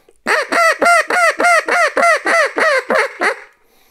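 About ten loud, nasal quacks from a duck call in a quick, even rhythm, the last few rising into a thinner Cajun-style squealing tail before fading.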